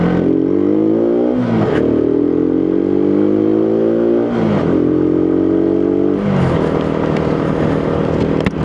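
A WK Bikes Maveric 125 motorcycle accelerates hard on a rain-soaked road, close and loud, its engine climbing through three rising revs with gear-change dips between them.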